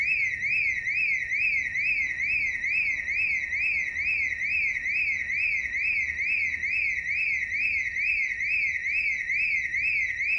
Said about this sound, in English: At least the alarm didn't go off too close to our home base.